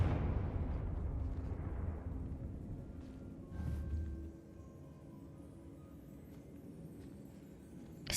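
A Confringo spell explosion in Hogwarts Legacy, a deep rumbling blast that fades into a long low echoing tail over several seconds, with a second muffled thump midway.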